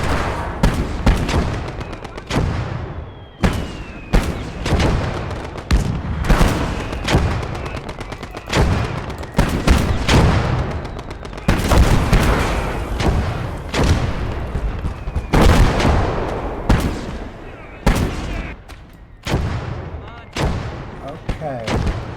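Mortar blasts and heavy gunfire from the World War II shooter game Ham and Jam, a loud, relentless stream of shots and booming impacts throughout, with voices in the mix.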